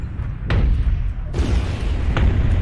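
A mech blows up in the video game MechWarrior Online on the Mining Collective map, heard as a deep, rolling boom with sustained rumble and a few sharper bursts layered on top.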